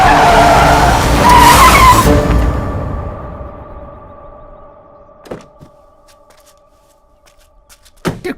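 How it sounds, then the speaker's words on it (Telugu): A car skids hard with loud squealing tires for about two seconds, the screech fading into a long ringing tail, followed by a couple of sharp thuds and knocks. "ఎదురు కారు వస్తుందమ్మా"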